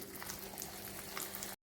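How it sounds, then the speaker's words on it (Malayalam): Raw banana slices frying in hot oil while the rest are fried and lifted out, a soft, steady sizzle that cuts off abruptly just before the end. "ബാക്കിയുള്ളതും ഇതുപോലെ വറുത്ത് കോരുക."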